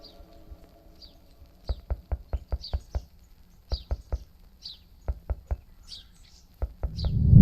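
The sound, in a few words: birds chirping in a Courage the Cowardly Dog video game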